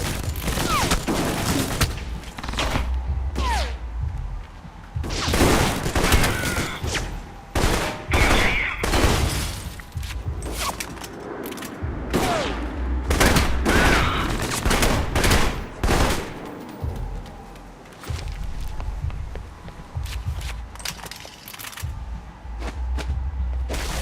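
Rapid volleys of gunfire crackle alongside booming fireworks in the video game Alpha Protocol, loud bursts repeating in irregular clusters with short lulls between, and no talking.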